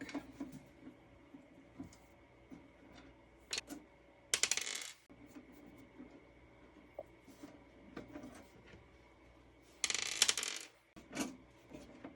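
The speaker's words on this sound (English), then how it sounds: "We're just going to pull the screws out of the sides and the back." Screws being removed from the sides and back of a Sony MDP-K5 laserdisc player: faint ratcheting clicks with two brief metallic rattles of loose screws, quiet and close with no speech.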